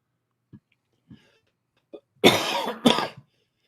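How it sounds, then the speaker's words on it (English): Two hard coughs in quick succession from one man follow a few faint short bursts, close and alone with no talk. "Still got the cough."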